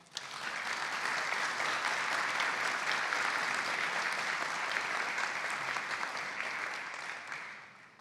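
Sustained, dense applause from a forum audience welcoming a panelist at a sustainable-mobility discussion in Mexico City, steady and full throughout before tapering slightly at the end, with no voices over it.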